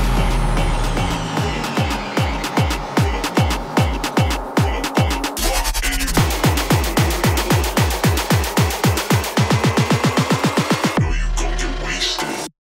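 An EDM build-up from a sample pack: rhythmic pounding hits accelerate into a rapid, tightening roll over swelling noise and risers. The sound stays loud and dense throughout and stops abruptly at the end.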